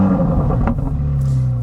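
Chevrolet Corvette C8 Z06 engine firing up, a short burst of cranking that catches into a deep, steady idle rumble, close and fairly loud.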